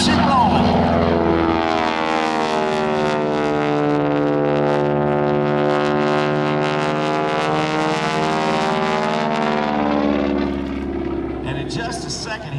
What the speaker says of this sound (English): is a big engine, 600 horsepower, Pratt & Whitney R1340.